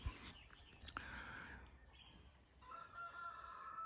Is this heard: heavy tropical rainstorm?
no